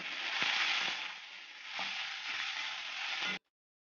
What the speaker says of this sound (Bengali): এখন আবার অল্প করে আমি মশলাটা কষে নেব